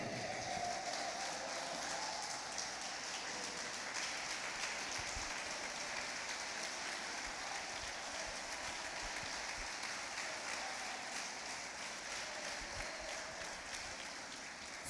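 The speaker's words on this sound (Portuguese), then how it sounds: "Se coloque de pé aplaudindo bem forte ao Senhor" A church congregation stands and claps for the Lord, a continuous, moderately soft wash of many hands heard from a distance and holding steady throughout, without speech.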